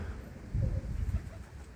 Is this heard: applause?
no